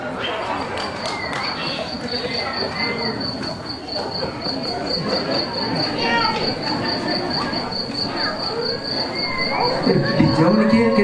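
Crickets chirp steadily outdoors at a Balinese village temple pavilion, a constant high trill running throughout, with bird calls and people talking and chattering in the background.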